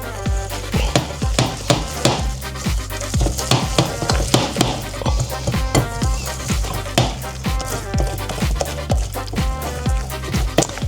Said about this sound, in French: je vais bien fouetter pour que la farine s'imprègne aux œufs